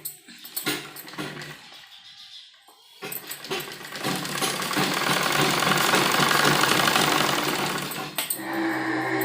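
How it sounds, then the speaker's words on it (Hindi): A sewing machine stitches the round seam of a trouser, with brief bursts early on, then a loud continuous run of stitching through the middle before it slows and stops. "तो सबसे पहले हम यहाँ राउंड सिलाई जो लगाते हैं वो लगाएंगे।"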